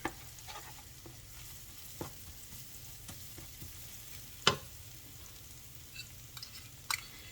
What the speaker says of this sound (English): And give that like a little stir there.